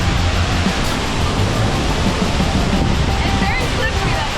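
Rainbow Falls waterfall crashing onto rocks, heard up close as a steady, loud, broadband rush of water that continues without a break throughout.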